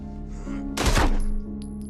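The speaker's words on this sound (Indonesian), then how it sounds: "James langsung menembak Rusty hingga tewas" A single loud gunshot in a violent killing scene from the 2022 action film The Contractor, one sharp blast with a short rumbling tail over a low background score.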